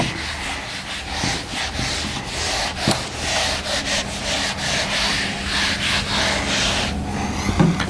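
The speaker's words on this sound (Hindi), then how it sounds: "इसको एक बार रब कर देते हैं" Someone rubs writing off a board during a maths lesson, a loud, close, continuous back-and-forth scrubbing with rhythmic strokes and no talking.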